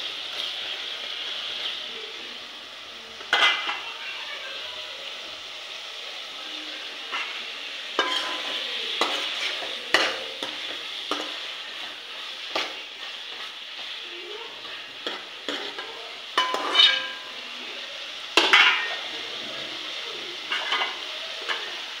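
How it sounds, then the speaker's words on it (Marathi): Prawns frying in a pan while being stirred, a steady hissing sizzle with scattered clinks and scrapes of the spatula against the pan, close and fairly soft. "बघा आपले झिंगे कसे फ्राय होत आहेत."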